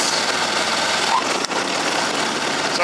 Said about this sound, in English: So I have the tractor running and the mower arm deck is engaged.